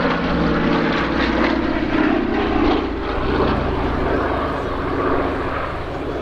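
A Douglas DC-3 propeller airliner flies past at an airshow, its radial engines giving a loud, steady droning roar that swells slightly and holds close throughout, with no talk.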